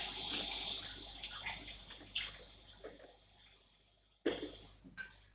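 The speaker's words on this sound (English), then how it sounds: "I'm going to rinse my bowl" Water from a tap splashes and runs briefly while a bowl is rinsed in a kitchen sink, then tapers to drips and small splashes, with a second short burst of running water near the end.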